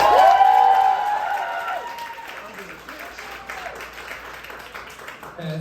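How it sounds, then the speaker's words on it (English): Audience applause at a roast comedy competition, rising as a vote for a contestant; clapping and some cheering swell briefly, then thin out as scattered claps and murmuring continue over a lingering tone. "by a round of applause, who thinks Ophelia is Steven Tyler?"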